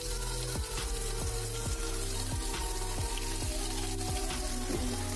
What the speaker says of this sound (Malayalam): ഇപ്പോൾ ചൂടായി വന്നപ്പോൾ നമ്മൾ ഇനി ഇതിലേക്ക് മീൻ ഇട്ട് കൊടുക്കുകയാണ്.